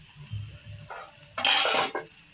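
Potato and cauliflower curry being stirred in a pan, a few soft scraping strokes building to a louder, close burst of spoon-against-pan scraping and sizzle near the end.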